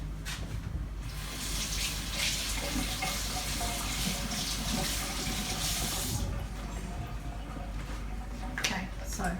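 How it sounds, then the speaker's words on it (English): A kitchen tap runs to rinse food while chili con carne is being prepared, a steady close splashing hiss of water that lasts throughout and briefly changes tone partway. "Rinse that off."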